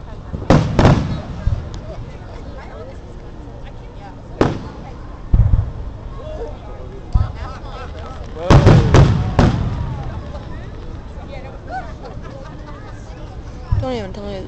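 Fireworks bursting in a series of sharp, loud booms and pops at irregular intervals, with a few crackling tails between blasts and quieter gaps with faint background noise.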